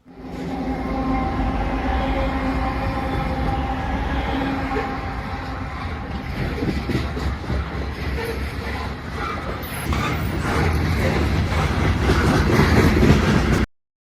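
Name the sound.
NS 1066 leading loaded grain train passing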